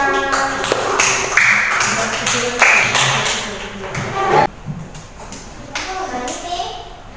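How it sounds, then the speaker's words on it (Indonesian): A primary classroom group claps for a fellow group of pupils, a quick burst of children's hand claps mixed with taps, thumps and kids' voices, fading after a few seconds into quieter chatter. "tepuk tangan."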